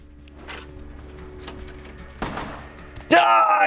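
Video game gunfire in Vampire: The Masquerade – Bloodlines, a couple of sharp shots with a louder blast at the end over low game ambience, fairly loud.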